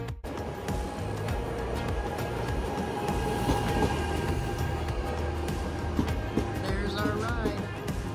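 A high-speed train runs toward Oslo Central with a steady rumble and rolling wheel noise, fairly near. A brief squeal of wheels rises toward the end.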